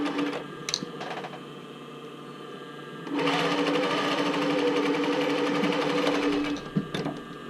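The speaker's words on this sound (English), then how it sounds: "I'm just going to sew" A sewing machine stitches the cups of a swim top bra, starting with a brief stop-start run and then a steady, close, continuous whir for several seconds before halting.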